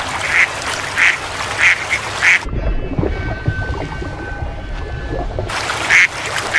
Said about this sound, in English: The ducks are unaware of what lies beneath.